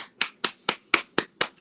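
Sharp, evenly spaced claps, seven crisp slaps about a fifth of a second apart, close and alone with nothing behind them.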